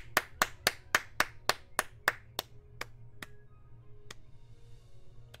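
Slow hand clapping from a single character in the video game Star Trek Online, about a dozen sharp, evenly spaced claps that thin out and slow toward the end, with a low engine-like hum beneath and a brief spoken word.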